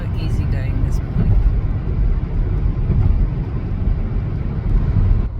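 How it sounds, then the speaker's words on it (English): Morning road traffic near a metro station rumbles continuously and fairly loud, a dense low wash of passing vehicles with no distinct single pass standing out. "Traffic is so easy going this morning."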